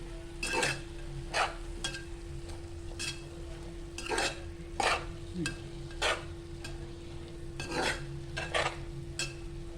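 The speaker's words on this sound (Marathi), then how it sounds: "आता आपण हे एकत्र करून घेऊया." Radish and dried fish curry being stirred in a pan, with repeated rhythmic scraping strokes of a spoon against the metal at close range over a low simmering sizzle and a steady background hum.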